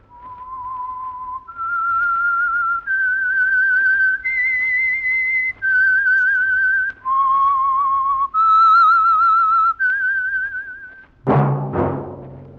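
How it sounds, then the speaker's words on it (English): Whistled theme signal for The Whistler radio mystery program: a clear solo whistle stepping through a slow melody of long held notes, followed by a brief burst of orchestral music at the end. "That whistle is your signal for the Signal Oil Program, The Whistler."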